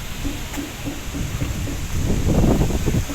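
Wind rumbles and buffets the microphone at an outdoor picnic grove in Tagaytay, a low steady roar that grows louder and gustier toward the end, with no talking.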